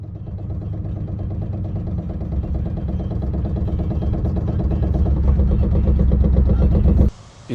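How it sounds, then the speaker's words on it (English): A Pontiac G8 wheel with loose lug nuts makes a rapid, rhythmic clunking while driving, over steady engine and road drone that builds gradually before cutting off abruptly near the end. "Basically, the wheel backed itself off, and this was the sound it kept making before that happened."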